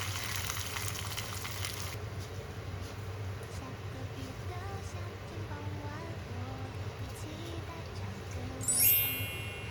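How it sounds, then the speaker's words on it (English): King oyster and shiitake mushrooms fry in oil, a quiet steady sizzle with faint clinks while a voice talks over it. "Put in the king oyster mushrooms first, then the shiitake."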